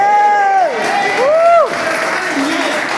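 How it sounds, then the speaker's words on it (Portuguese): A church congregation applauds and cheers together, a steady wash of clapping and crowd noise with a sustained voice whooping and gliding loudly over it. "uma grande salva de palmas"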